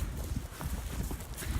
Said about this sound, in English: He walks so slowly when you lead him with another horse